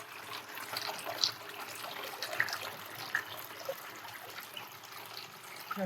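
Water trickling and dribbling off a saturated artificial grass lawn as runoff puddles, a steady faint wet babble with a few small splashy drips, no voices.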